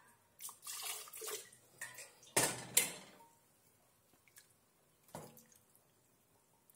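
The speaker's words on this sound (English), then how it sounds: "I'm rinsing it with a little bit of water." Water splashes and swishes as a blender jar of blended scotch bonnet mix is rinsed with a little tap water in a home kitchen, a few short bursts then faint drips and clinks.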